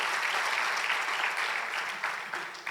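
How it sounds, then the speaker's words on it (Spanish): A church congregation claps for the Lord, a loud, dense wash of applause that fills the room and fades a little toward the end. "Denle un aplauso al Señor, por favor."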